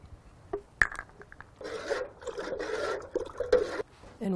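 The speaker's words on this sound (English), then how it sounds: "Give it a little stir." A small two-gallon watering can of water mixed with worm tea is stirred briefly, giving a few seconds of close, steady swishing and scraping after a couple of faint knocks.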